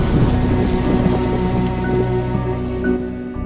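Rain falls in a steady, dense wash of droplets with a faint low rumble underneath, continuous and even throughout.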